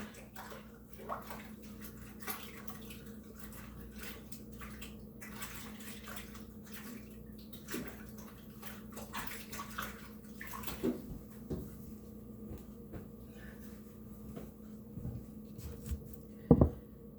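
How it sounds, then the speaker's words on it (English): Water runs from a kitchen tap while hands are washed, a soft steady splashing and patter that comes and goes, fairly faint and close, with a few louder knocks near the end. "now, I'll wash my hands again"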